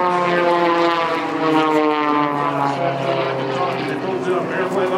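A propeller airplane drones loudly and steadily through an aerobatic routine at the Joint Base Charleston 2018 air show, its engine pitch gliding up and down while an announcer talks over it.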